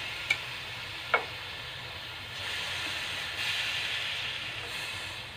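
Pork steak frying in a pan, a steady soft hiss of sizzling oil with a couple of sharp clicks early on, fairly quiet and close.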